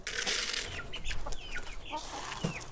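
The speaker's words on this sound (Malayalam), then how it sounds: "അപ്പൊ കോഴികൾക്ക് തിന്നാൻ കൊടുക്കട്ടെ." Chickens cluck and squawk busily while being fed at a house, several birds close by with overlapping calls and a brief flutter, loud and continuous, no talking.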